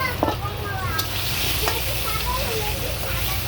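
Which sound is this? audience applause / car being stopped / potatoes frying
potatoes frying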